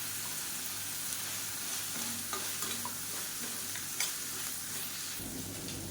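Cauliflower fries in a pan with a steady, fairly quiet sizzle throughout and occasional light scrapes from stirring as the florets are tossed.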